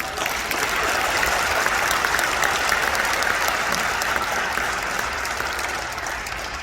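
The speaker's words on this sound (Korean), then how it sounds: "박수 부탁합니다." A large church general assembly audience claps warmly, a dense, sustained wash of applause that holds steady throughout and eases slightly at the end.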